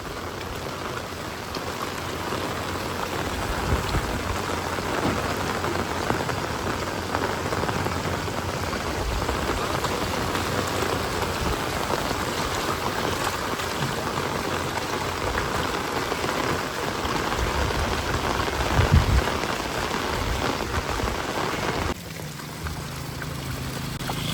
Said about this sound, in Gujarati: એક બાજુ વરસાદ અને પવન સાથે વરસાદ બહુ જબરજસ્ત